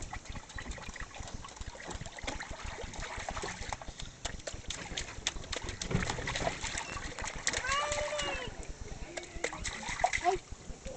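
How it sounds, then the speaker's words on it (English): Children splashing in a backyard pool, with constant close splatter and sloshing water while an adult and the children talk and call out over it. "Tiny splashes, only in the back and not in the front."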